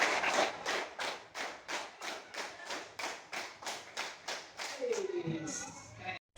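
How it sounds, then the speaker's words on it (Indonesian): Students in a classroom clap together in a counted pattern, about fifteen crisp, evenly spaced claps in sets, each sharp and close, followed by a voice at the end. "Tepuk 3 kali 5"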